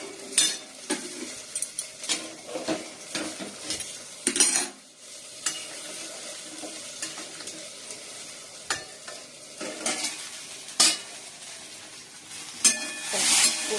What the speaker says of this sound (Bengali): ঢেঁড়স আলুটা একটু ভেজে দিচ্ছি